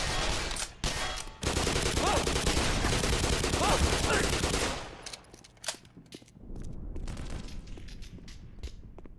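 Gunfire in the Black Mesa video game: a dense, loud fusillade of rapid shots and booms for several seconds, then sparser, quieter shots and scattered blasts.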